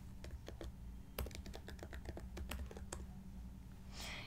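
Typing a password on a computer keyboard, a quick irregular run of crisp key clicks, close and fairly quiet, then a pause and a short soft whoosh at the end.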